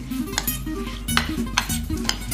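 A spoon stirs soaked, drained Japanese sushi rice with salt in a bowl, making close, rhythmic scraping and gritty swishing strokes against the bowl with small clinks, with no one talking.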